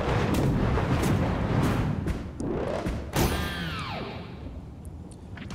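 In the Super Mario Wonder video game, seeker Bullet Bills fire with heavy booming thumps, backed by dense game music and effects and followed by a descending whistling tone, all loud and close.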